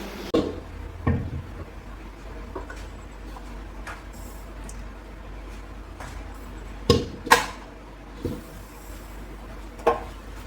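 A knife chops vegetables on a board in a home kitchen while a vegetable stir-fry is being prepared, giving sparse, irregular woody knocks at close range with quiet room tone between them.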